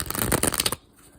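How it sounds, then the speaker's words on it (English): A tarot deck gets shuffled in quick, crisp riffles, a dense burst of papery card flutter that lasts under a second and then cuts off into near silence. "So I'm just gonna shuffle the deck."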